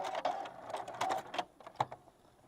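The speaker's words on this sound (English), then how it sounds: "Stitch right off the corner of your quilt." A few short, faint bursts of sewing machine stitching as the needle runs off the corner of a quilt binding, uneven taps and whirs with brief gaps.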